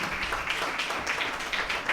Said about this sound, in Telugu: చప్పట్లు కొట్టి ఆమోదిద్దాము